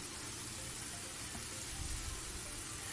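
Ingredients sautéing in oil in a pan for Arabic shakshuka, seasoned with salt, a steady close sizzle and frying crackle running unbroken throughout with no talk.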